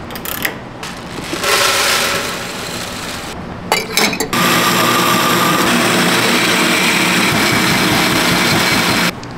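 A hand-cranked grinder works through pepper, producing a loud, close mechanical grinding and ratcheting that starts in bursts, then runs continuously before stopping near the end.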